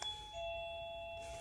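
Doorbell tied to a 433.92 MHz wireless system chimes once with steady sustained tones, ringing clearly and alone for about a second before fading out.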